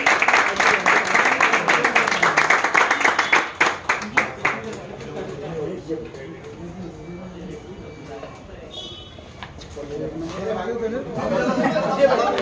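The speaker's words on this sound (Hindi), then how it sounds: "तालियों के साथ में दोस्तों" A crowd at a party prize-distribution function claps steadily for several seconds, the applause thinning out into scattered claps and then giving way to chatter and voices.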